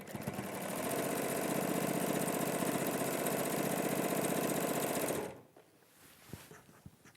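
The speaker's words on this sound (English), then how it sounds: "So we're just going to basically sew those together." A sewing machine stitches quilt flower pieces together in mild peach and pink fabric, running fast and steady at close range for about five seconds, then stopping abruptly, followed by quiet handling sounds.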